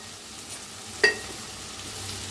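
Egg fried rice with coriander, ground coriander powder and garam masala frying in a pan, a soft steady sizzle with one brief louder stir or clatter near the middle.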